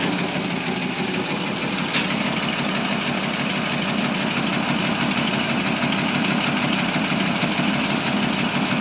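A 1947 Ford Super Deluxe flathead V8 with adjustable lifters idles steadily after a two-year cold start, a continuous close engine drone with faint ticking valve clatter and no speech.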